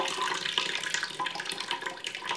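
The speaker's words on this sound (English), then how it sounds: "Now I'm emptying the water mixed with the buttermilk in something different." Water mixed with buttermilk left over from butter making is poured off into another container, giving a continuous splashing pour with a gurgling, bubbly texture, close and fairly loud, with no talk.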